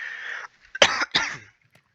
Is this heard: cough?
yes